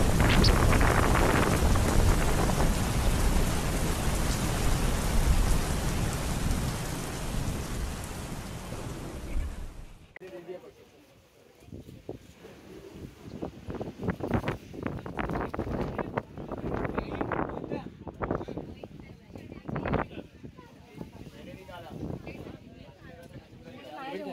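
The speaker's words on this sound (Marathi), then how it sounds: "खूप जास्त वारा सुटला आहे." Strong wind blasts across a hilltop facing Peb Fort, roaring as loud, dense buffeting against the microphone for about ten seconds, then dropping to lighter, uneven gusts while people talk.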